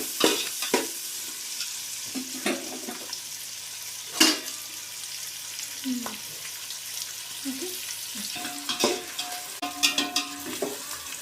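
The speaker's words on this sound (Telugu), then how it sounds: "ఇప్పుడు ఆనియన్స్ బ్రౌన్ అయ్యేంత వరకు ఫ్రై చేసుకోవాలి" Chopped onions and three green chillies fry in oil in a pan, a continuous soft sizzle with occasional spatula scrapes and knocks against the pan, close up, with a few faint background sounds.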